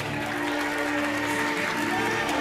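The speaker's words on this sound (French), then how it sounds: "On applaudit bien sûr Delphine" A studio audience applauds on a French TV game show, a dense, steady clapping that fills the room at close range for a couple of seconds.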